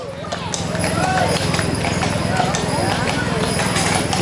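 Belgian draft mares pulling a wagon in a small-town Liberty Days parade give a steady, close run of hoof clip-clops on pavement, heard under an announcer talking over a loudspeaker.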